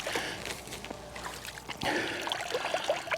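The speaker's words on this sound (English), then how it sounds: "Just pretty much splashing that around." Water splashed around by hand in a shallow spot while building a clay castor mound for beaver trapping, giving a close, continuous trickling and sloshing with a few brighter splashes, moderately loud and alone.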